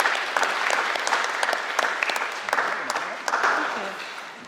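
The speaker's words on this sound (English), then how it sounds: "A big round of applause, please, for Nina." Audience at a Durham Union address breaking into a sustained round of applause, dense, steady clapping from a full hall that slowly fades toward the end.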